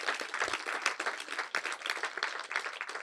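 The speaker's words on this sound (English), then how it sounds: "please give them a big round of applause." A hall audience claps for two speakers at a book event on the Tamils, the applause forming a lively, uneven patter of many hands, moderately close and steady throughout with no voices over it.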